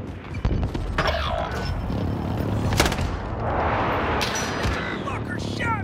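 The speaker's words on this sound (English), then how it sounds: "Be advised, friendly precision airstrike inbound." Precision airstrike explosions in a battle royale video game: heavy booms and rumbling blasts with sharp gunfire cracks, loud and dense, under a faint voice.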